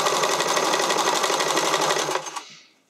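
A sewing machine on its widest zigzag at medium stitch length sews elastic onto the leg openings of briefs, running loud and steady with a fast rhythmic chatter, then slowing and stopping near the end.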